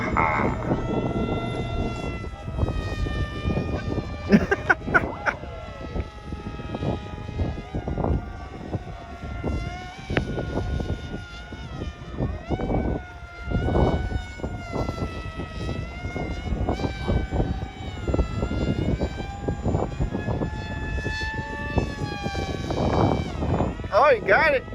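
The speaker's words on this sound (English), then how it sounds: "You gotta use your RC plane." RC model airplanes in a combat competition, their small engines buzzing and whining with shifting pitch as they pass, heard under frequent talk and laughter from spectators.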